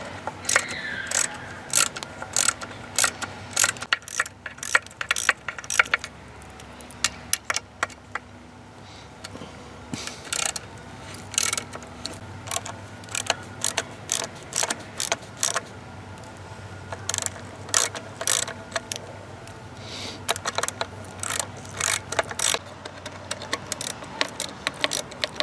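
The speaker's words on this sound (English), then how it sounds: "Back these screws out." Hand ratchet backing out 5/16 screws on a Mercruiser Alpha 1 stern drive, giving irregular runs of close, sharp clicks with brief pauses between strokes over a long stretch.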